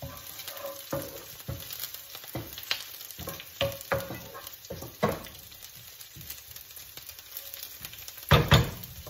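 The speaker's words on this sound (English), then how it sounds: "I'm going to smash a little bit of garlic. Put that in there as well." Smashed garlic goes into a pan with shallots that are already cooking. A soft, crackling sizzle is overlaid with irregular clicks and scrapes, and a sharper clatter comes near the end.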